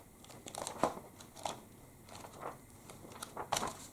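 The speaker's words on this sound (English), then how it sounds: "So just one more page turning" Quiet, crisp paper rustles repeat every half second or so, like pages of a Lord of the Rings book being flipped one after another close by, with no voices.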